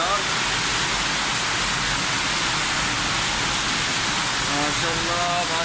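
Steady, dense roar of heavy rain falling in Riyadh, Saudi Arabia, loud and unbroken from start to finish, with a faint voice appearing at the very end.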